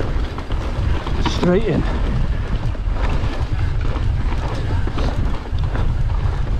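Cold wind rushes across the microphone on a mountain bike trail near Glasgow, a steady close buffeting roar with brief spoken words and tyre rumble underneath.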